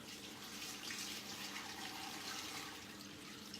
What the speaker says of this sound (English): Then we put some water in it.